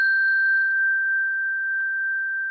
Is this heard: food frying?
no